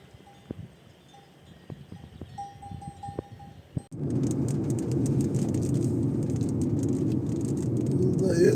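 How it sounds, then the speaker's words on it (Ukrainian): Sparse, distant clinks of bells on grazing cows in the Sierra Nevada mountains, then a sudden dense hiss of rain sets in and keeps pouring steadily. "Оце дощ починається."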